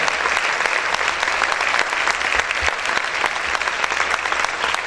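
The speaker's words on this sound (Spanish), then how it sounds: "¿Cuántos pueden aplaudir fuerte al Señor en esta hora?" A church congregation claps loudly and continuously, a thick, even wash of applause that holds steady for several seconds.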